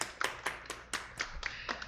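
Applause for a dating-show contestant comes through as a faint, regular run of about eight distinct claps at an even pace, light and somewhat distant.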